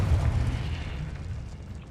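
Confringo blasting-spell explosion in the Hogwarts Legacy video game: a loud, sustained rumbling boom with low-end weight that fades gradually over about two seconds, with no voices.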